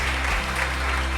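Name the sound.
congregation applause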